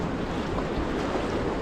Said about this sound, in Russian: Море здесь очень теплое.